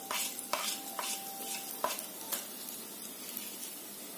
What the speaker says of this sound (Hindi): तेल गरम हो चुका है तो इसमें डालेंगे जीरा।